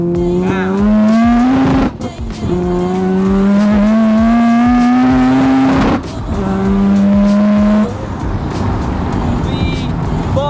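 A Mazda FD RX-7 rotary build launched hard with its wheels spinning, the engine screaming loud and close in rising, stepped pulls with brief breaks between them, while people shout over it.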